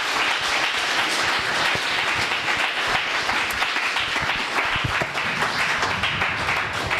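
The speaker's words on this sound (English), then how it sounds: "Let us give him a clap of our hearts" A church congregation breaks into vigorous, sustained clapping during a service, a loud, dense patter of many hands that stays steady throughout.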